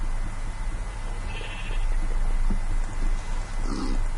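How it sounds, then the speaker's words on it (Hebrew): Video game sheep bleat a few times against a steady low hum, short wavering cries spaced apart with no talking. "אני שומעת כבשים"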